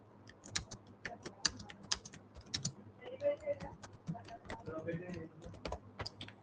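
Steady typing on a computer keyboard while writing Python code, with rapid clicking keystrokes in uneven bursts, close and fairly loud, mixed with faint background speech.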